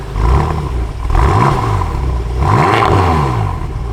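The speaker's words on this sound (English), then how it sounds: "I'm just gonna do a small rev" A BMW F10 M5 engine, cold, revs briefly twice, rising and falling in pitch, loud and close, with a steady idle between the revs.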